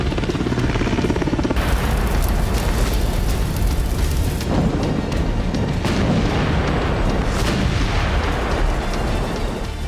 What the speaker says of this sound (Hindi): वॉर ग्राउंड में होते ये धमाके, ये तबाही रूसी राष्ट्रपति व्लादिमीर पुतिन का प्रतिशोध है।